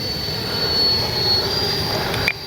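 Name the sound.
Freewing Banshee 64mm EDF RC jet flying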